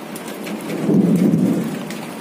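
Heavy rain with hail and thunder pounding down close by, a dense roar of drops swelling into a low rumble of thunder midway before easing slightly, with no voices.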